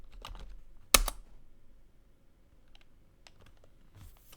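A few keystrokes on a computer keyboard while a Linux install command is entered: one sharp, loud clack, then sparse, faint taps spread over a quiet room.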